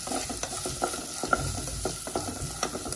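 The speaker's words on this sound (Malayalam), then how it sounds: "ഉപ്പും ചേർത്ത് നന്നായി ഒന്ന് വഴറ്റിയെടുക്കുക." Chopped onions with salt sautéing in a pan for a Kerala-style squid roast, a steady close sizzle broken by repeated scraping stirs of the spatula, with no talk.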